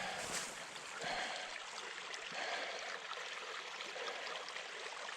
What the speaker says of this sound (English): Here, a creek.